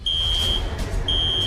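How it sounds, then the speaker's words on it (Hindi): An alarm in a children's animated adventure sounds a loud, steady high-pitched electronic tone that cuts out briefly and then resumes, heard close and alone. "कहीं नहीं दिख रहे, लेकिन अलार्म क्यों ऑन है?"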